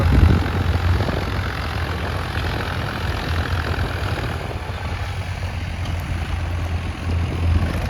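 Two farm tractors plowing a field together give a steady, loud engine drone with a low rumbling throb that holds unbroken throughout, no voices.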